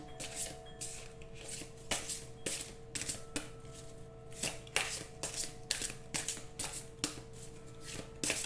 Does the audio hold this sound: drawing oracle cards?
yes